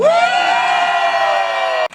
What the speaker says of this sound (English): Cheer if you want government to hear you.